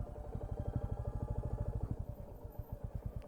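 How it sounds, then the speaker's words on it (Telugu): A motorcycle rolls downhill on engine braking along a rough, dirty road to the Balda Caves, its engine thumping in a steady, rapid pulse, close and loud throughout. "మొత్తం ఇంజన్ బ్రేకింగ్ పైన పోనిస్తున్నాను నేను"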